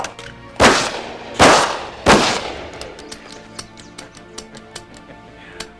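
Three loud, sharp gunshots ring out about a second apart, each with a trailing echo, followed by a run of quieter rapid clicking and tapping.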